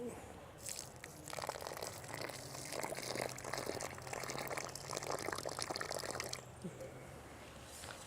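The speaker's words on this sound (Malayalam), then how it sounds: "ഇനി നമ്മൾ ഒരു ദ്വാരത്തിൽ 1/2 ലിറ്റർ ഒഴിക്കുന്നു" About half a litre of homeopathic agro-care solution is poured into a hole dug beside an areca palm, making a steady splashing gush for several seconds before stopping, heard close.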